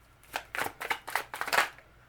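Tarot cards are shuffled in several quick riffling bursts, each a crisp papery flutter, close and fairly quiet.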